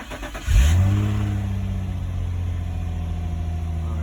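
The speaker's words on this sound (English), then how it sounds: "So I gotta start the car" A 2006 Infiniti G35 engine cranks briefly, catches with a sharp rev at about half a second, then settles into a steady, close idle hum that continues to the end, with no talk.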